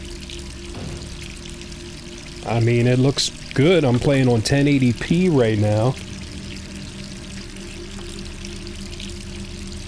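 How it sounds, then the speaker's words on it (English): A tap runs steadily in a Resident Evil 3 Remake scene, a continuous soft stream of water heard throughout while someone talks over it partway through. "Turn that water off that I didn't even realize was running"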